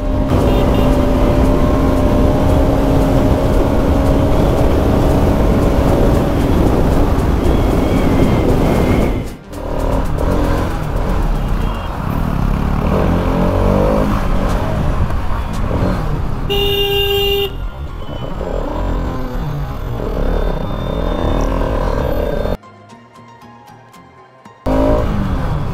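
Yamaha V4 and RS200 motorcycles ridden hard through heavy traffic, engines roaring loud and close with continuous wind rush and surrounding road noise, a brief dip near the middle and a short quieter stretch near the end.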